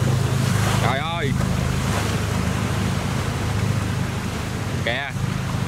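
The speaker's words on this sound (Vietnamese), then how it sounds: "Xà lan mà đi nước đổ như thế này rất là căng các bạn." A barge pushes through salt water rushing and cascading like a waterfall into a small river, a loud, unbroken roar of surging water and wind buffeting the microphone, with two brief voice-like calls rising above it.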